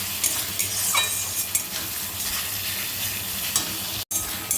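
Desi chicken sizzles in a pan with cumin powder and turmeric while a spoon stirs through it, scraping now and then over a continuous frying hiss, near and fairly loud, with a brief break near the end.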